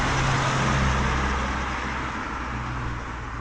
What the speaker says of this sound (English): It does get very noisy when the cars come by.